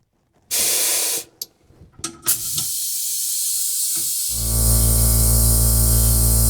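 A car owner's air chuck filling a tank toward 100 PSI, the tank mounted near the pump in a Nissan 240SX trunk: short bursts of hissing air, then a steady, loud compressed-air rush that continues with a low hum beneath it.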